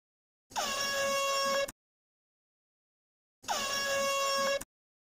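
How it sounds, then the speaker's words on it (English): Two loud, sustained blasts of an air horn, each about a second long and separated by a few seconds of silence, with no talking. "Airhorn in my house."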